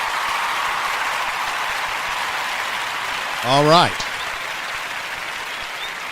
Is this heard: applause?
yes